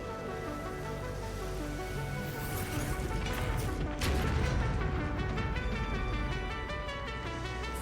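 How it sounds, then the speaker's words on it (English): Fireworks go off in the factory-building video game Satisfactory: deep booms and crackling bursts swell in the middle over a constant humming machine drone and tonal game sounds. "Fireworks, apparently?"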